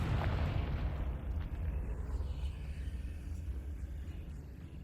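A Confringo blasting spell explodes in Hogwarts Legacy, a heavy booming burst that opens loud and then rolls into a long, fading low rumble.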